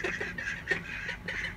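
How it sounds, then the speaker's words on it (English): Ducks quacking and calling back and forth nearby, a steady run of overlapping calls that carries on without pause. "They're talking to each other, aren't they?"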